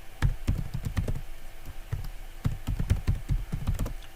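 Typing on a computer keyboard to enter an email address: quick, close, irregular bursts of key clicks and taps, fairly quiet, with no talking.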